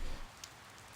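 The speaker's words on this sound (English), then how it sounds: "Oh, it's raining." Rain falling in the video game Persona 4, a brief steady hiss of rainfall with a soft patter, heard alone.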